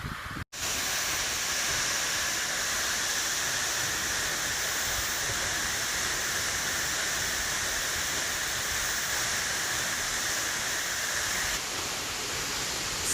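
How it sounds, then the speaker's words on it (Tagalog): Bridal Veil waterfall in New Zealand gives a steady, even hiss of falling water heard from an overlook, continuous and fairly loud for the whole stretch after a brief cut at the start. "andito na tayo sa overlooking Bridal Waterfalls"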